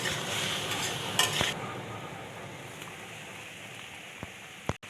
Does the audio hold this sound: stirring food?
yes